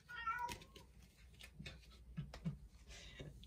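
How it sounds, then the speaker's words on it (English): A house cat meows a few times indoors, the calls thin and fairly faint against a quiet room, with light background noise and no one talking. "My cat agrees."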